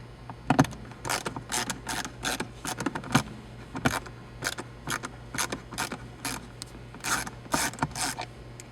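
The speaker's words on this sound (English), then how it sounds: "We're going to take these 2 front screws out." Screws are backed out of a Hyundai Elantra center console with a ratcheting tool, a rapid series of close mechanical clicks in short bursts with brief pauses between them.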